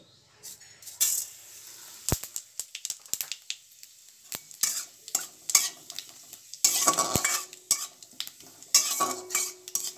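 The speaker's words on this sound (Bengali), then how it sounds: "তেলটাও গরম হয়ে গেছে এবারে আমরা এর মধ্যে দিয়ে দেব সামান্য পরিমাণ গোটা জিরে" Whole cumin seeds crackle and sizzle in hot oil in a wok, with scattered sharp pops, clicks and stirring scrapes of a utensil against the pan, growing busier toward the end.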